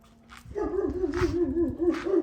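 A dog barks close by, giving about three sharp barks over a brief whining tone, at moderate volume with no talk.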